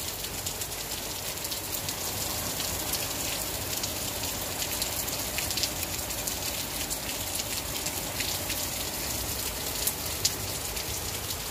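Steady rain pours down on a surface on a cloudy day, a dense, even hiss with scattered sharper drops, continuous and fairly close, with no voices.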